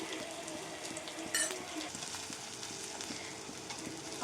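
Onions with ginger garlic paste frying in a pan for a chicken fry, a soft, steady sizzle with light crackle and an occasional stirring clatter, quiet and continuous.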